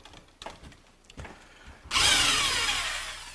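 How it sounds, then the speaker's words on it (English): A power drill bores pilot holes into a wooden wall stud for a vacuum tank mounting bracket, sounding after a few light clicks and taps as a sudden loud whirring burst that grinds steadily on. "He's drilling a couple of pilot holes where he's marked it with the template."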